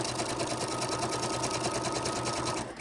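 A sewing machine stitches through a paper plate in a quick, steady whir of needle strokes, close and continuous before stopping at the end.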